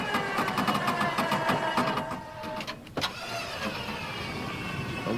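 A car with a dead battery, which an off-road wrecker crew is trying to start, cranks with a rapid repetitive whir, a sharp burst partway through, and then a steady running drone close by.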